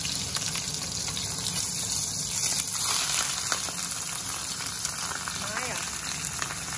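Two small fish sizzling in hot oil in a pan with spring onion, ginger and chili, a steady broadband frying hiss throughout, with someone speaking briefly over it.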